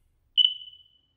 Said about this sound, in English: turn on the power to the detector and you should hear a beep